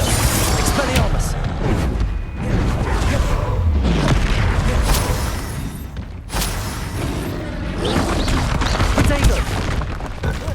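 Confringo spells hit in Hogwarts Legacy combat: heavy booming blasts and crashes one after another, loud and dense, mixed with shouted speech and battle noise.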